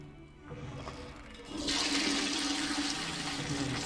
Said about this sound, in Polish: Spłukać wodę, nie wyżej.